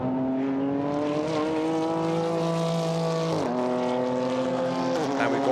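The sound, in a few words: GT4 race cars driving through the chicane at Paul Ricard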